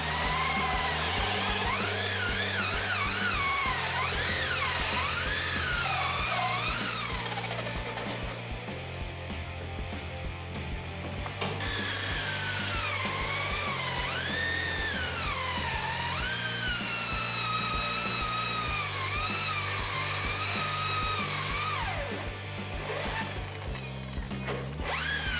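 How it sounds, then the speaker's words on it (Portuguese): Power drill boring a hole in clamped MDF plywood, a continuous close whining motor with rising and falling pitch as the bit bites in and eases off, running loudly throughout. "Faça um furo nessa peça de madeira que você prendeu."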